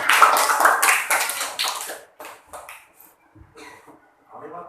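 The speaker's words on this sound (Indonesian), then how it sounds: "Tepuk tangan buat Putri." Pupils in an Indonesian elementary classroom clap together in a short burst of applause that fades into a few scattered claps, with a voice speaking over it.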